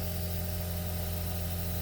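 A small portable airbrush compressor bought from Amazon runs at about 20 psi while the airbrush sprays. A steady, even hiss of air sits over a constant low motor hum, alone and without talk.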